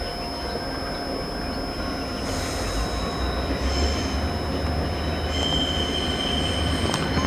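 Train 2042 pulling out of Ershui station in Taiwan: a steady, loud rumble of rolling rail cars with high, sustained wheel squeal running throughout, heard up close with no talking.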